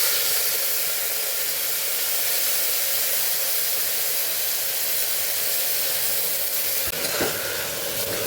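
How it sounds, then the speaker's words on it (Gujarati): Tanjariya greens hit a hot oil tempering of garlic and asafoetida for a Kathiyawadi dish, giving a loud, continuous hissing sizzle with a brief sharper burst of stirring near the end. "ભાજીનો વઘાર કરી દઈશું એમાં"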